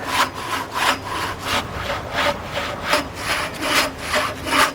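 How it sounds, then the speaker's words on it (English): Wood being hand sawn on a telegraph pole, a steady back-and-forth rasping rhythm of about nine strokes, close and fairly loud. "did my wood sawing on the telegraph pole"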